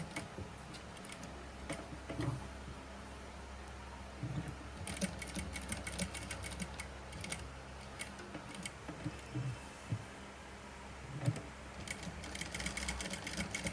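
A sewing machine stitches a princess-cut saree blouse, its needle ticking in a soft, steady rhythm with small pauses. The sound stays faint and close, with no talk.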